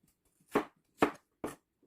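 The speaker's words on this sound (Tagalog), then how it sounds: "ganyan lang po ang ating paghiwa sa ating sayote" A knife chops through chayote on a board in three distinct, evenly spaced cuts, each a short crisp thud, with near silence between.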